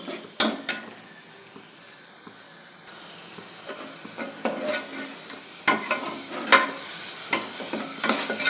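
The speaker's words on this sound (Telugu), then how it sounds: "ఇంకా బాగా మసాలా ఉడికించుకున్నామండి" Spiced masala of chilli powder, coriander powder and turmeric frying for masala macaroni, a soft steady sizzle punctuated by sharp, close clinks of a spoon stirring against the pan.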